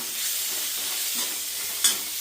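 Radish sautéing in a pan for Tamil sambar, a steady sizzling hiss with light stirring scrapes and a couple of sharper crackling bursts near the end.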